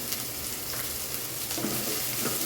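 Curry leaves frying in a pan while making beetroot palya, giving a steady, close hiss of sizzling oil that runs unbroken through the moment with faint stirring scrapes.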